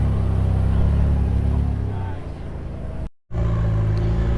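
Rock crawler buggy engine on a sand hollow trail grinds uphill with a deep, close, rumbling drone and tonal motor hum, easing off before a brief dropout then resuming.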